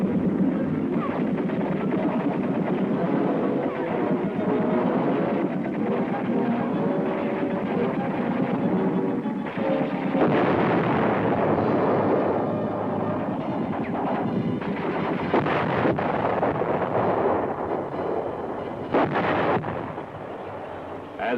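Heavy gunfire and artillery roar through M-60 tank combat exercises, with tanks and infantry advancing under fire from enemy tanks and anti-tank guns; a dense, continuous barrage of booms and blasts, loud and sustained throughout.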